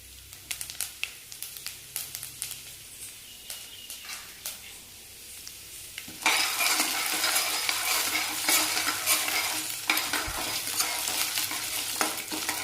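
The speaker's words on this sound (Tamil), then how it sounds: "கடுகு எல்லாம் பொரிஞ்சு வரட்டும் படப்படன்னு" Mustard seeds, urad dal and chana dal crackle in hot oil, first with scattered pops and stirring, then swelling into a loud, dense spluttering sizzle that fills the second half.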